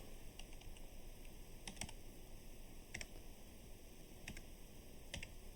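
Keys tapped on a computer keyboard during office data entry, faint and sparse, with short bursts of clicks spread over a steady background hiss.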